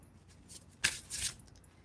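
A large deck of tarot cards is shuffled in two quick, soft riffling bursts, close by and faint against a quiet room.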